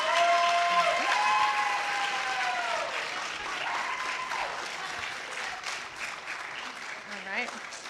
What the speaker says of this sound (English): We can applause now.